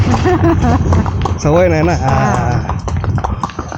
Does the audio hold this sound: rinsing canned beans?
no